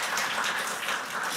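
A church congregation at a Sunday service claps in thanks, a brief, dense wash of steady applause from many hands, evenly loud throughout.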